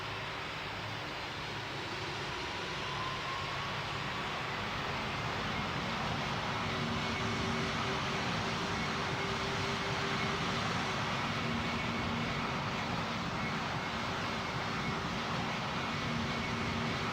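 An Emirates airliner taking off in a Roblox flight simulator, a steady continuous jet engine roar with a faint whine, holding level throughout without voices.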